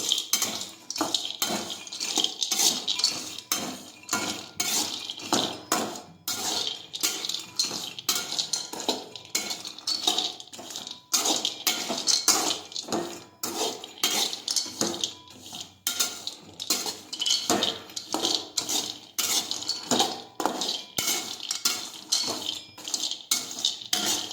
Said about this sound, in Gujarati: હવે આપણે ધીમા ગેસે કાજુ અને બદામ છે તે શેકી લઈશું.